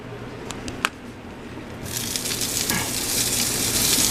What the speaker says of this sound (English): Now we want to get the Spam a little crispy too.